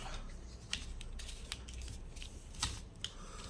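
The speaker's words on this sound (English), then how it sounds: "We will cut this extra edges here." Scissors or a blade trim the extra edges off a homemade RC transmitter part, giving a series of quiet, sharp snips and clicks spaced irregularly at close range.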